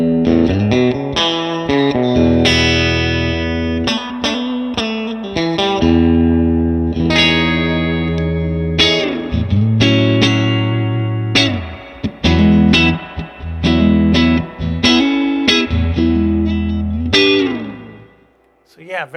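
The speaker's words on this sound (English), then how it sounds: "Let's go ahead and turn the reverb way up and just hear what that does." Electric guitar chords and notes through a tube amplifier with its reverb turned way up, loud and washy, with trails ringing out between phrases.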